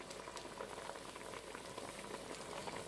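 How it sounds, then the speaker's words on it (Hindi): Mutton with onion, garlic and ginger bubbles in a pot of water on the stove, a faint, steady boiling hiss with small crackling pops, heard alone. "अब इसको वो जो है उबाल आके पकना शुरू हो गया"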